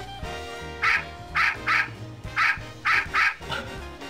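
A toy poodle magic trick wrapped in a handkerchief gives off a series of six short whining cries in uneven pairs, close and fairly clear over a quiet background.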